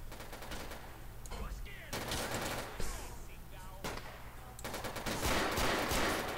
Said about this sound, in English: I'm getting shot up, man.